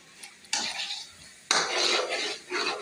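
A spoon scrapes and clatters against a metal pot while spices such as red chili powder, coriander and turmeric are stirred together, in two bursts of close, scratchy stirring with a short pause between.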